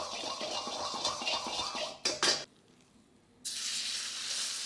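Homemade shallot and garlic oil swirled over high heat in a hot wok, giving a loud close sizzle and scrape that cuts out briefly, goes nearly quiet, then returns as a steady hiss.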